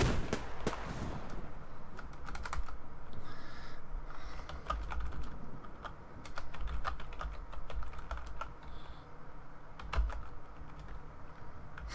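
Rapid, irregular typing on a computer keyboard close by, clattering in bursts against a quieter background of video game sound with faint gunfire-like pops.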